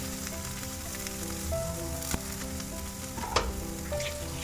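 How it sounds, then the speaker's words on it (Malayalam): Chilies, garlic, shallots and curry leaves sizzle steadily in hot coconut oil for a spinach thoran, a dense close frying hiss with occasional stirring clicks and scrapes and no talk. "എന്നിട്ട് നന്നായിട്ട് വഴറ്റി കൊടുക്കുക"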